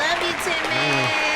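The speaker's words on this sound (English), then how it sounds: "Y'all clap it up for 10-Man one time." An audience at a podcast recording claps in a short, steady burst, close and fairly loud.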